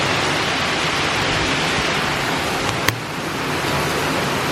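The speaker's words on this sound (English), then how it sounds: "I cannot believe the volume of rain right now." Heavy rain pours down steadily in Byron Bay, Australia, a dense, unbroken hiss of falling water with one brief sharp tap near the end and no talking.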